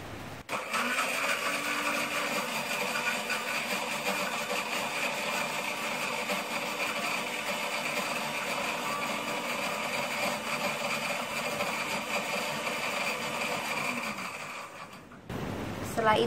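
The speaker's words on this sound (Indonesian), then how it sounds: "Baru kita blender bunda" An electric blender whirs steadily for about fourteen seconds, churning a peanut cracker batter of water and broth powder, then cuts off near the end.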